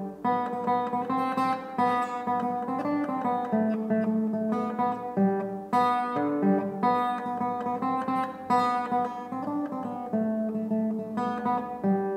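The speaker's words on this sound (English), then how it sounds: "Now, guitar 1 sounds like this." An acoustic guitar strums sustained chords of an African folk song in a steady rhythm, clear and close, with no voices.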